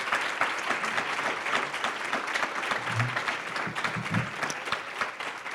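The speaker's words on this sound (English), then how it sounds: "I'd like to give a round of applause to our 4 candidates here" An audience at a school board candidate forum gives a steady, dense round of applause for four candidates, many hands clapping continuously at close range with no break.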